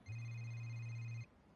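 A telephone rings in an animated cartoon scene: one steady electronic ring tone that holds for about a second and then cuts off, loud and close, with no talking over it.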